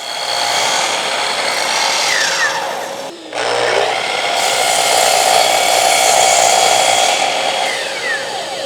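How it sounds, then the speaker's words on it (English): Miter saw cutting wooden pieces for a Christmas tree jig: a loud, continuous high whine as the blade spins and bites, a brief dip midway between cuts, then the whine rising again and running steadily to the end. "The pieces have been cut over on the miter saw"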